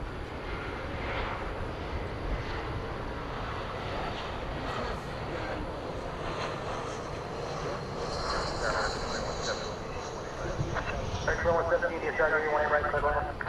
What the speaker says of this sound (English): An Airbus A320neo.